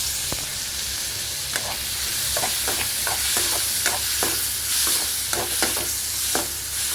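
Chopped tomato sizzling in an oiled pan for a goat brain dish, with a steady hiss and a regular series of spatula scrapes and taps throughout.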